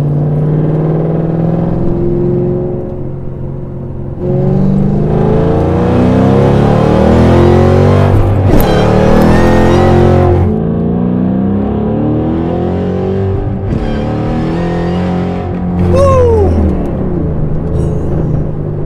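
A 2014 Shelby GT500 with about 720 rear-wheel horsepower revs hard, its supercharged V8 climbing through rising, falling sweeps of loud exhaust roar, close and dominant, with short lifts between pulls.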